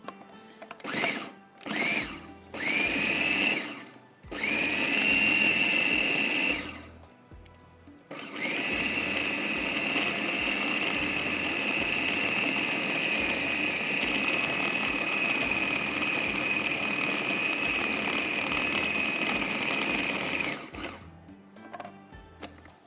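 An electric blender whirs through marinated meat and ground masala for BBQ stick boti, starting in several short pulses, then running at a steady high whine for a long stretch before stopping.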